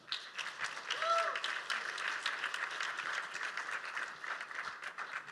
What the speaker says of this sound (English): please give a round of applause to our panelists.